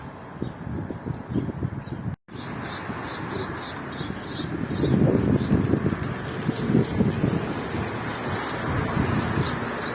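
Pigeons taking flight: a burst of flapping wings rising midway over a steady outdoor background, with chirps and light calls scattered throughout.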